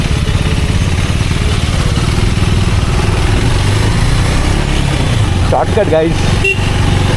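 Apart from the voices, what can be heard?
Yamaha RX100 motorcycle engine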